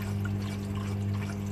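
Water in an aquarium sump skimmer venturi bubbles and trickles steadily over a constant low pump hum, heard close up with no voices.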